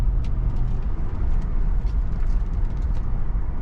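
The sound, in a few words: F100 truck with Crown Vic swap driving on test drive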